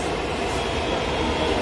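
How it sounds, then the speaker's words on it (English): A steady, loud rumble of a Green Line metro train running near Yeshwanthpur and Sandal Soap Factory, a constant dense roar with no breaks or voices. "Green line metro train"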